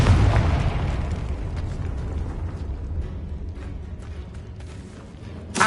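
A Confringo blast spell from the Hogwarts Legacy video game: a loud, booming explosion that bursts at the start and rumbles away over several seconds, ending with a sharp crack.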